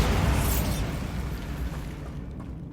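Bombarda blasting spell exploding in Hogwarts Legacy, a single loud, broad boom that rumbles and fades over a few seconds with no voices.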